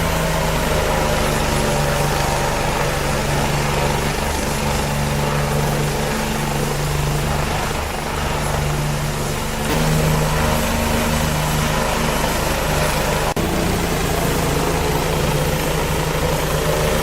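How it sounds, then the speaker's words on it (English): Bell 429 helicopter engine in a flight simulator, a loud, steady turbine drone with rotor hum holding constant throughout, no talking. "trying to keep the body of the helicopter below the top level of the trees"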